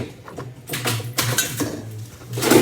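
Utensil scraping and clinking against a bowl while food is mixed at home, a series of close, uneven knocks and scrapes with no talking.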